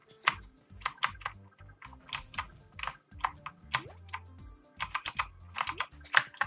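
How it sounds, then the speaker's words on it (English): Clicky mechanical computer keyboard typed on in quick irregular bursts of sharp clacks, close to the microphone, with brief pauses between flurries. "I got a clicky keyboard"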